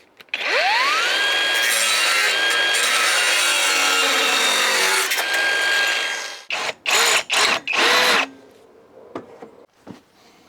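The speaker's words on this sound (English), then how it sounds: "I'm going to cut a piece out of this also. It's very thick material, actually, chassis reinforcement for a 2CV." A power saw bites into thick 2CV chassis reinforcement steel with a loud, sustained grinding whine, then stops and restarts in several short, harsh bursts before fading out; close and without talk.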